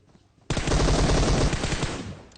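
Sustained automatic gunfire from a shooter video game starts abruptly after a moment of quiet, a loud, dense burst of rapid shots that runs continuously to the end.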